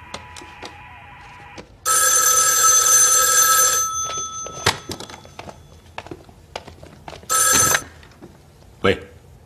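An old telephone bell rings loudly in two long bursts, with thumps and clatter between, and voices talking nearby.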